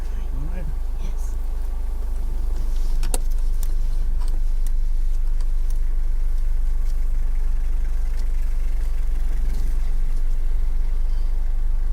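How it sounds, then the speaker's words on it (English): A car idles and creeps at low speed while turning around in the road during a driving lesson, a steady close engine drone with faint ticks throughout and brief voices under it. "I'd like you to turn your car around to face the opposite way and try and avoid the curbs when you're turning."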